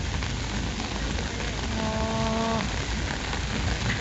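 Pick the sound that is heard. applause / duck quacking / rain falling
rain falling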